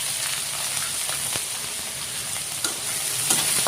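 The snout of a korti fish frying in a little oil in a pan gives a close, steady sizzle with a few soft stirring clicks, and no voices.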